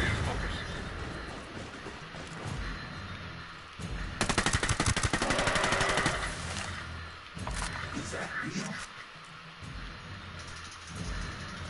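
Machine-gun fire in a Predator video game breaks out as a dense rapid burst lasting about two seconds midway, with someone talking and game noise before and after it.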